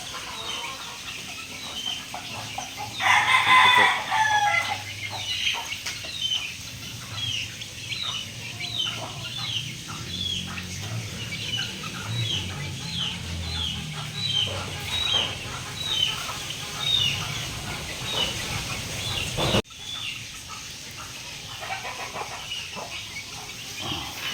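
Three-week-old chicken chicks in a backyard peep in a steady stream of short, high chirps throughout, with some clucking from nearby fowl and low farmyard rumble underneath, no talking.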